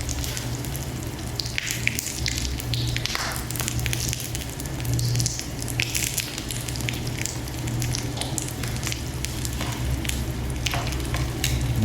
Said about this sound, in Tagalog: last na luto ng tuyo, tapos kakain na tayo